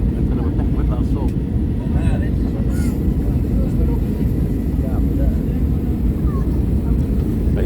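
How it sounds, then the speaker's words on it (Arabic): Inside an airliner landing at an airport in Denmark, the cabin fills with a loud, constant engine roar and rumble throughout, while a person talks over it. "هلا هي لحظة الهبوط، هلا لحظة الهبوط"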